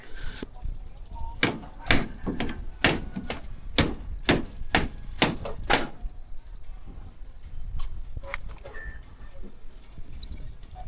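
A door is handled during installation in a room, giving a run of sharp, evenly spaced knocks and clacks, then sparser taps, with faint voices in the background.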